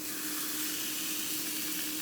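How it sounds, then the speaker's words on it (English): Steady, loud sizzling of steak searing in a hot cast iron pan, a continuous crackling hiss with no voices. "You hear that sizzle?"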